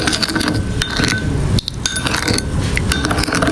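Spicy Korean ramen noodles being mixed with sauce, giving a steady run of close clinks and scrapes of utensils against a pot or bowl, with no voice over it.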